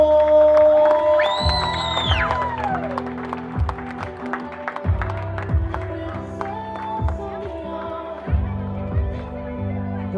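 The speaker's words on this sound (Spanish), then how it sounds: "Un aplauso." Scattered clapping and whoops from guests at a quinceañera party rise over steady music and chatter, moderately loud and close, with a brief burst of cheering near the start.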